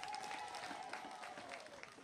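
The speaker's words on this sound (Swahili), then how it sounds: "Mafia nipigeni makofi" Applause from party delegates at a CCM meeting in Mafia, a faint but continuous patter of many hands heard from a distance, with a thin steady tone running beneath it.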